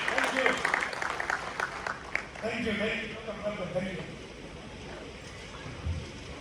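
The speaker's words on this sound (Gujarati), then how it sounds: "જોરદાર તાળી સાથે અશોકભાઈ please welcome to the stage" An audience in the Bhuj town hall applauds to welcome a speaker on stage at a Kangen water meeting; dense clapping fills the room at first, then thins and fades under speech.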